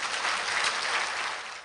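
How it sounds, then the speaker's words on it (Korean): A church audience at an outdoor revival meeting claps in warm, sustained applause, a dense even wash of many hands at close range, with no speech over it. "우리 목사님 나오실 때 큰 박수로 맞이해 주시면 고맙겠습니다."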